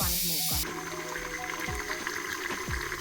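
Water pours and splashes steadily as it is drained from cooked rice for biryani, a continuous rushing stream with a few soft knocks beneath.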